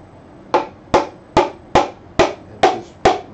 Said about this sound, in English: Back to the hammer.